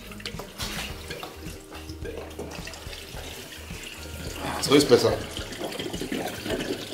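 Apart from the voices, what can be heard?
water poured in to test Mercedes 320 CDI for leaks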